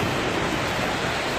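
A heavy-flowing waterfall in Iceland thunders nearby, a dense, steady roaring wash of water heard alone without talk.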